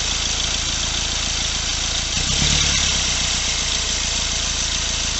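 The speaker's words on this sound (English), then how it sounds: "So just putting a squirt in, letting it rev up slightly, letting it settle, just like that." A Kia Venga 1.4 CRDi diesel engine running steadily, briefly revving up slightly around the middle and then settling back to a steady idle, close and continuous with no talk.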